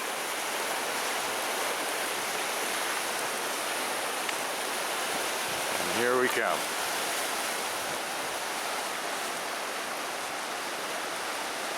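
Vernal Falls in Yosemite on a snowy hike, its rushing water a dense, steady roar filling the whole clip; a voice speaks briefly over it midway.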